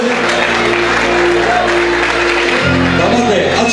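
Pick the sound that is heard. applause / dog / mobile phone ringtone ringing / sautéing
applause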